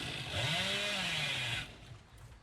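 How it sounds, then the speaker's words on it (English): Hillbilly's chainsaw in the horror game Dead by Daylight revs loud and steady with rising and falling pitch for about a second and a half, then cuts off abruptly into quieter game ambience. "almost got the perfect chainsaw there"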